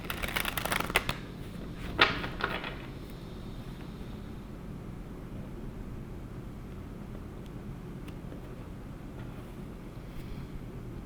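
A tarot deck being shuffled by hand during a reading, a burst of crisp riffling card flutters in the first few seconds, then quiet room tone with faint rustles.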